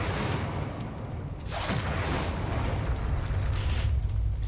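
Incendio fire spell cast in the Hogwarts Legacy video game, a sustained roaring whoosh of flame with broad booming rumble, loud and close, swelling in bursts over several seconds.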